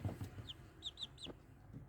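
Several high chirping peeps from a chick, short rising-falling calls in a quick cluster, close and fairly soft.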